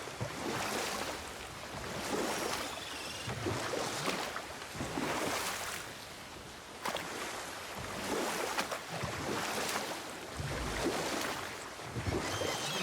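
Oars paddle through water while a boat rows across a lake in a video game, with wave and splash sounds rising and falling in a steady stroke rhythm, fairly loud and without talk.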